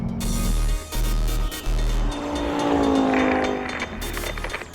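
An Audi RS3 accelerates hard around the Zwartkops race track, its engine note climbing loudly and steadily through the gears with brief dips at each shift, heard up close and alone.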